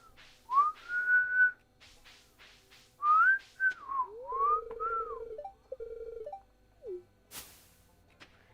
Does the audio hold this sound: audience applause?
no